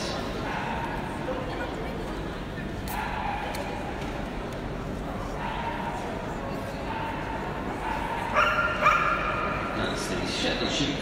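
Several puppies at a Manchester dog show bark, yip and whimper intermittently amid a busy indoor hall, with an announcer talking over the dogs and a slightly louder burst of yapping near the end.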